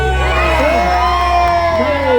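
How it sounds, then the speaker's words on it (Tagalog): Crowd at a Pasig Day street celebration in Barangay May Bunga lets out a loud, sustained cheer, with shouts and whoops over a steady roar and a voice on the PA. "isang malakas na hiyawan!"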